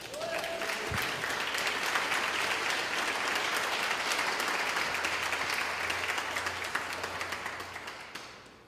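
A large church congregation applauding steadily and loudly for several seconds, the clapping dense and sustained before tapering off at the end.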